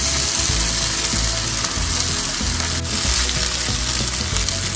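Par-boiled pulao rice goes into a hot pan, producing a loud, dense, continuous sizzle with low stirring rumbles underneath.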